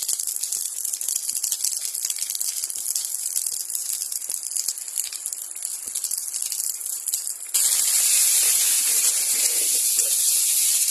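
Chilli fries in hot oil in a pan with a loud, steady hiss that jumps abruptly louder partway through.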